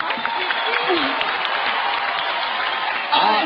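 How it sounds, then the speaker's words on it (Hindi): Applause from a studio audience on a dance show, steady clapping under overlapping talk, with a voice rising briefly near the end. "जोर से तालियां हो जाए।"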